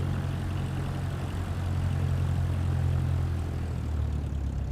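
Propeller aircraft taxiing in Microsoft Flight Simulator 2024, a steady low engine drone with a constant hum, fairly loud and unbroken, no talking.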